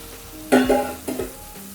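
Hot oil poured into sugar syrup for Mysore pak crackles in two short, sharp bursts of sizzling spatter, close and fairly loud, each fading quickly against a quiet kitchen background.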